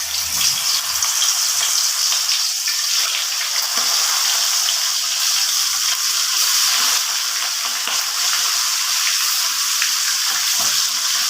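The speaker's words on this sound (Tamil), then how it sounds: "நான் அந்த மீனை, திருக்கை மீன் பொரிக்கிறேன்." Stingray fish frying in hot oil, a loud continuous sizzle and crackle with occasional soft stirring bumps underneath.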